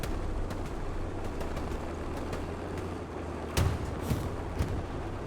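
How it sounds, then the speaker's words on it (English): An explosion in the video game Hell Let Loose, set at Stalingrad, comes as a sharp distant thump partway through, followed by fainter bangs over a steady low rumble of battle ambience with no talk. "Explosion."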